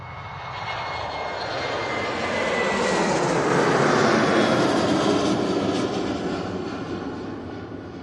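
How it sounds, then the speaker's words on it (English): A KLM Boeing 737 jet departs Manchester Airport bound for Amsterdam, its engines a broad, steady roar that builds to a peak mid-way and then slowly fades, loud and continuous with no voices. "Got his KLM now going back to Amsterdam"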